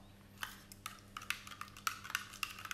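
Homemade slime solution being stirred. Faint, irregular scraping and clicking strokes with small sharp taps, close up and quiet, with no voices.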